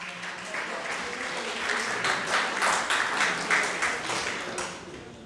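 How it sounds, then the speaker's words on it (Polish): An audience at an award ceremony applauds a nominee, a warm crowd of clapping that swells in the middle and tapers off over about five seconds. "Wielkie brawa!"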